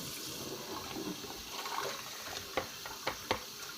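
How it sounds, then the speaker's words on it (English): Tap water runs steadily into a kitchen sink as cooked pasta is rinsed, a constant hiss of flowing water with a few light clunks and taps near the end. "So I'm rinsing the pasta. Getting most of the starch off of it."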